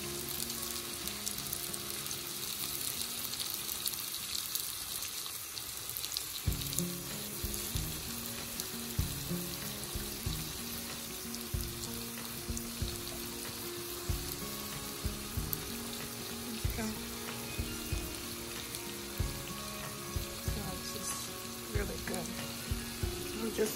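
Beef tongue cooks in a pan of Creole sauce with lime juice, a long, low, steady simmer with a faint sizzle, soft bubbling and occasional clinks, and a brief voice partway through.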